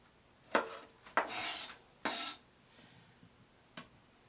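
A knife slices the tops off tomatoes on a cutting surface, making a few separate short scraping cuts with brief pauses between them and a faint tap near the end, close and moderately quiet.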